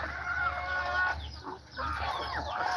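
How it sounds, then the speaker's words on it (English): DeKalb Leghorn cross hens clucking close by, a run of overlapping cackles and chatter from several birds, continuous across the moment. "these are DeKalb chickens. They're a Leghorn something cross."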